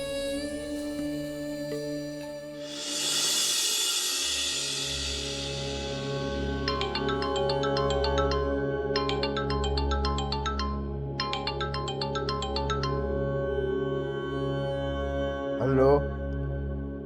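A phone's electronic ringtone chirps in three repeated bursts over a soft, steady music bed inside a home, then stops.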